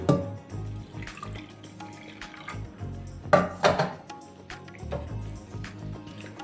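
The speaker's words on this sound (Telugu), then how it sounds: "ఇప్పుడు అటుకులు ములిగేంత వరకు నీళ్లు పోసుకుందాం" Water is poured over flattened rice (poha) in a kitchen bowl to soak it. Close, uneven splashing and trickling rises and falls in short bursts, with one louder gush midway and no talking.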